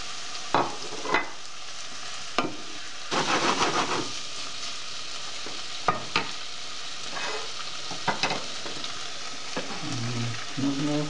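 Chicken wings fry in a pan with a continuous sizzle, broken by several sharp clatters and a burst of louder spitting as they go in, close up and without talking.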